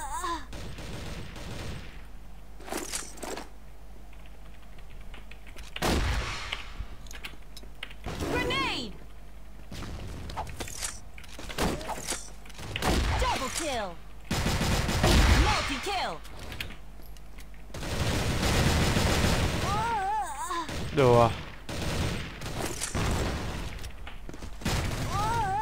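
Heavy gunfire in a shooter game, repeated bursts and single shots crackling loudly throughout, with excited talking in between.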